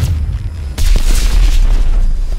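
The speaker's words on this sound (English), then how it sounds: "Use your cannon on those tanks." Tank cannon fire in a Call of Duty campaign battle: a sudden heavy boom cuts in, followed by sustained loud rumbling blast noise over low battlefield drone.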